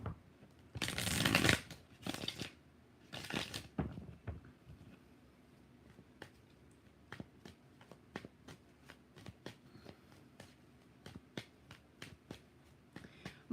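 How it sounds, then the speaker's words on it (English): Tarot cards shuffled close by, loud riffling bursts at the start followed by a long run of soft, regular taps and card clicks, with no talk. "One more shuffle."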